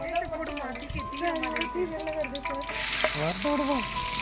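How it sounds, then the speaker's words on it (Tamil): Steady sizzling of spices frying in hot oil for seeraga samba biryani, with occasional stirring, while background music or voices carry on throughout and a brighter hiss rises near the end. "எண்ணெயில் வேண்டிய அளவு மசாலா பொருட்கள் போட்டு"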